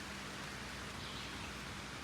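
Light rain falls along a remote backpacking trail in Pennsylvania woods, a faint, even hiss of drops with no voices over it.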